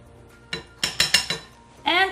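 A utensil clinks against a bowl while soy sauce is stirred in: a few sharp, close taps, then a short voice at the end.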